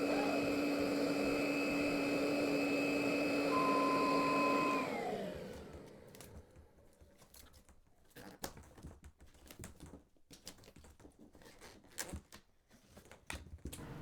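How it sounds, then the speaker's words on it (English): A vacuum roars steadily for several seconds, drawing a plastic bag through flexible conduit, then cuts off and winds down, leaving scattered light clicks and rustles. "suck it through with the vacuum"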